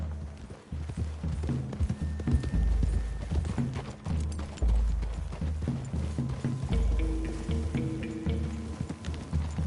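Horse hooves clip-clopping at a steady walking rhythm in a video game, with several horses moving together through woodland. The hooves sound close and continuous, with faint ambient noise underneath.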